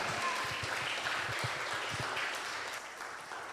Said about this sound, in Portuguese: As palmas louvam o Senhor Jesus para todo sempre, amém